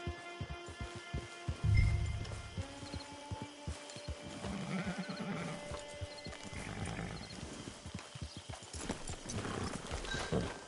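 Horse hooves clop steadily in Red Dead Online on PS5, a continuous rhythmic plodding with a whinny and game music or ambience underneath, moderately close.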